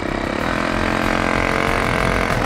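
A small two-stroke weed eater engine rigged as a boat motor drones continuously at steady high revs, loud and close, with water and outdoor noise around it.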